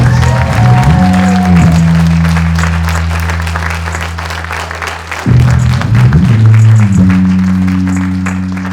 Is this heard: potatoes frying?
no